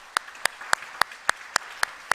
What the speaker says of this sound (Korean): 우리 감사의 박수 한번 합시다.